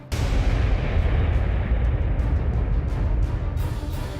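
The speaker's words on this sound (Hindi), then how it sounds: "जोर का धमाका।" A loud explosion strikes a hillside, an abrupt heavy boom followed by a deep rolling rumble that stays strong and slowly fades over a few seconds.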